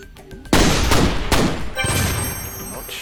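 Beacon weapon fired in the artillery video game Shellshock Live: a loud burst of booming, crackling blasts begins abruptly after a brief quiet lead-in, followed by further rolling impacts and a sustained noisy rumble that slowly tapers.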